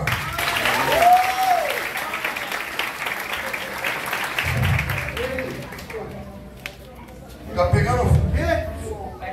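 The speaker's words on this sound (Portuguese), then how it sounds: "pode aplaudir o Senhor." A church congregation claps and cheers at a healing service, a broad burst of applause that fades midway, with voices calling out over it and a second swell of crowd noise near the end.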